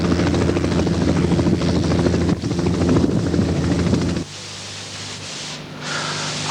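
Helicopter flying over an ice- and snow-damaged power line in blustery winter conditions: a steady, loud rotor drone with a rhythmic beat that cuts abruptly, then continues as quieter, thinner engine hum.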